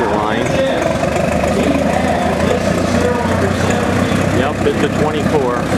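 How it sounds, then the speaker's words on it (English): A Farmall Super C tractor pulling a 220 check row planter rumbles steadily and loudly nearby at a tractor event, with voices talking over the engine. "Here comes a Farmall Super C with a 220 check row planter."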